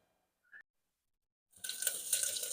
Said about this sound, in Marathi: तेल टाकलं